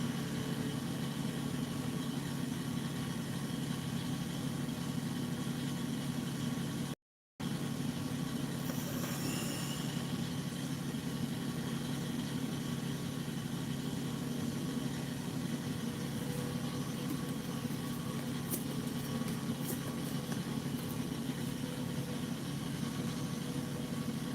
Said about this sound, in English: you can hear the tractor